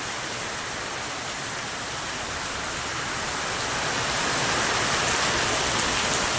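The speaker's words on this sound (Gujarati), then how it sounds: "ફૂલ વરસાદ ચાલુ છે" Steady heavy rain pouring down in Bahucharaji, Gujarat, a dense unbroken hiss that swells slightly louder toward the end, with no voices.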